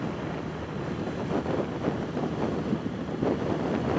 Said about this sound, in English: It feels like it's windier right here than it's been.